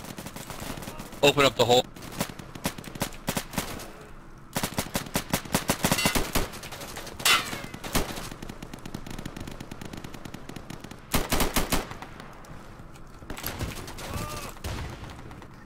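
Machine gun fire in Insurgency co-op play, with several loud close bursts of rapid shots separated by quieter gaps, and players talking over the action.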